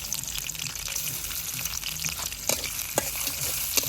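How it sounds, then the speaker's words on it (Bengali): Fish bhuna frying in a pan with onion and green chili: a dense, steady sizzle with crackling oil, plus occasional scraping stirs and clinks of a utensil. "ব্যান মাছটা বুনা করি তাই না মুজাহিদ"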